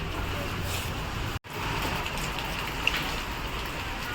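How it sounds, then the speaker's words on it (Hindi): Rain falls steadily outdoors near NJP railway station, a dense, close hiss of drops on surfaces that cuts out for a split second partway through, with a brief tick later and no clear talk. "पूरा बारिश दे रहा है।"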